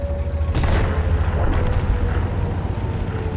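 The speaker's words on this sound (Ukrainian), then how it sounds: "дивіться, які постріли" FV4005 Stage II tank destroyer cannon fire in a World of Tanks-style game: one heavy, booming shot with a sharp onset rumbles over a dense, loud, continuous background roar.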